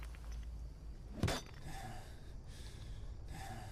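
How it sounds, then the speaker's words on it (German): A single short, sharp cough from a player character in the survival video game Green Hell bursts out once over a quiet, steady jungle ambience. "Dein Charakter hat gerade gehustet."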